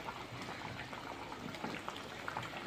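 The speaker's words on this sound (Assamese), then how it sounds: "উতল আহিছে, খুব ধুনীয়া উতল আহিছে" Vegetarian curry simmering in a pot, a faint steady bubbling with soft liquid pops throughout, no voices.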